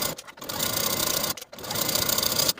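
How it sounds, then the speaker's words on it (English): A sewing machine stitches the back seam of a bias-cut jacket with a 3/8 inch seam allowance. Its needle whirs steadily and close, in runs split by brief pauses. "sew that back seam once again with a 3/8 inch seam allowance"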